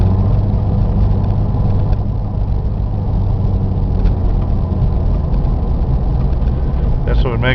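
1997 Jeep Cherokee Laredo six-cylinder 4x4 engine running at a steady idle with a muffler fault, a continuous low rumble close by while a person talks over it.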